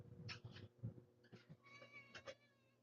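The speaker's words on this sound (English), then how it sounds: "Let me get the cat out" Cat meowing indoors in a workshop: a few close, drawn-out meows and short cries follow one another over a few seconds, fairly quiet, with no speech.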